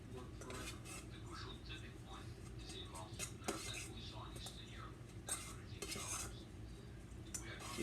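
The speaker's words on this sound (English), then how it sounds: "Mix the butter into the breadcrumb as much as you can" Butter mixed into breadcrumbs in a bowl for a tuna noodle casserole, soft repeated scraping and clinking of utensil against the bowl, quiet and close, with faint murmured speech.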